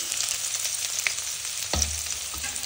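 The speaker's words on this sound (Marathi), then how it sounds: "आता आपण हा बारीक चिरलेला कांदा घालू त्याच्यामध्ये आणि छान परतून घेऊ" Finely chopped onion frying in oil with cumin and mustard seeds, a continuous bright sizzle with a spoon knocking the pan and stirring scrapes, no voices.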